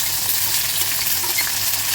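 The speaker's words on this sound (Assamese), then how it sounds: "পিঁয়াজখিনি ভাজা তেতিয়া ভাজি হৈ যোৱাৰ পিছত এতিয়া মই দিলোঁ বিলাহীখিনি" Tomatoes frying in hot oil with onions and cumin seeds in a pan, giving a steady, close, continuous sizzle with faint stirring, no voices.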